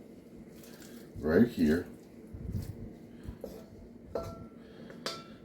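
Metal pan clanks and scrapes as cooked burger meat is drained, with a couple of loud knocks, light clinks and a faint trickle of liquid, under a person speaking nearby.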